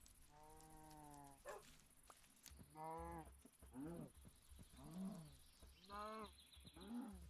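Cows in the Minecraft video game give a series of about seven short, drawn-out moos at fairly regular intervals, clear and close against a quiet background.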